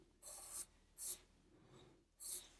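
Pencil drawing folds and the curve of a shoulder on paper, three distinct scratchy strokes separated by brief pauses, close and quiet with no voices.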